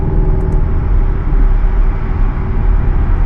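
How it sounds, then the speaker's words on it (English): A Porsche 718 Cayman S with a valved exhaust system idles and drones steadily, a close, loud, low rumble without talk. "So this car also has the valved exhaust system."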